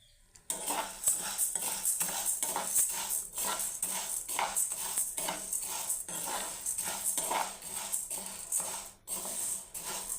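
Lentils such as toor and urad dal dry-roast in a pan for sambar powder, a spoon scraping and stirring them in a steady rhythmic rattle with metallic clinks, close and continuous with no talking.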